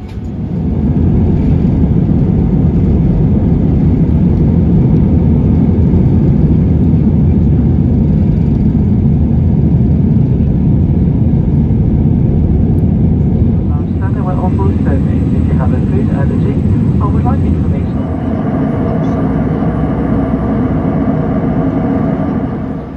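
A steady, loud roar of airplane engines fills an airport gate area as a traveler heads to board, with a constant low rumble and a brief higher whine partway through.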